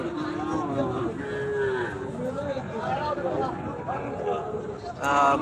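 Cattle, mostly bulls, low and moo repeatedly nearby at a crowded cattle market, mixed with a steady murmur of voices and background movement.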